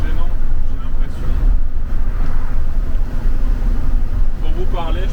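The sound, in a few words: wind noise through open sunroof of Ford Explorer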